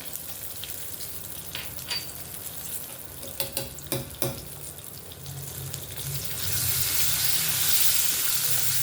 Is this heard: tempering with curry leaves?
yes